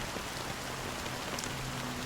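Steady rain falling on a surface, a dense continuous patter with scattered louder drops, even in level throughout and no voices.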